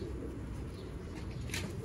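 A Royal Teddy pigeon, a fancy breed held in someone's hand, gives soft, low cooing, faint and muffled under steady background noise.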